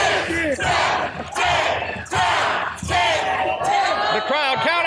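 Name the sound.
wrestling crowd counting along to ten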